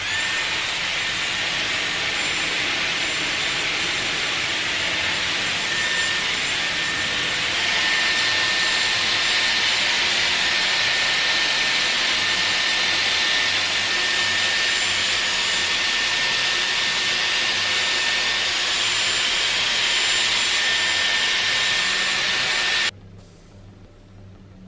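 A Dyson Airwrap hair styler with a large barrel blows air at high heat, making a loud, steady whooshing roar that swells slightly partway through and then cuts off abruptly near the end.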